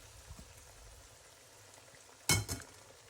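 Shrimp, with squid to follow, tipped into a pot of simmering seafood liquid: a low bubbling murmur, then one sudden close splash and clink followed by a smaller second splash.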